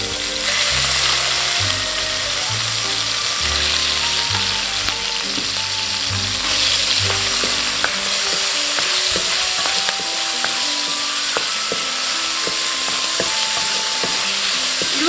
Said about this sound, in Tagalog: We're going to saute our chicken.